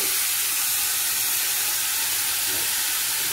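Food frying in a covered pan gives off a steady, loud steam hiss and sizzle that runs unbroken throughout, with no voices.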